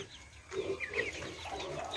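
Large free-range Rhode Island Red chickens give a steady run of nearby clucks and soft calls, with no voices.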